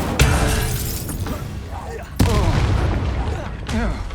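Incendio fire spell effects from Hogwarts Legacy on PS5, loud whooshing bursts and booms layered over a voice calling out spells.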